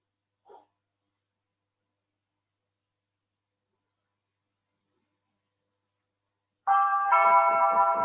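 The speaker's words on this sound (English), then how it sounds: "I knew he was gonna ring the doorbell." A doorbell chimes near the end after a long silence, a ringing tonal tone with a faint brief sound earlier, heard in a home during an online intermediate algebra class lecture.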